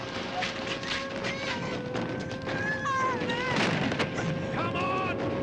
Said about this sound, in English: It's shrapnel from our own guns.